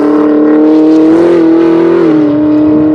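A Chevrolet Camaro ZL1 engine roars loud and close under hard acceleration, its steady high drone sliding in pitch as gears change in quick succession.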